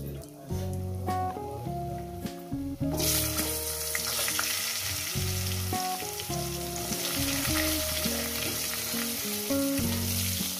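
Oil sizzles steadily while potatoes fry in a pan, with a sudden louder burst of crackling partway through and music playing underneath.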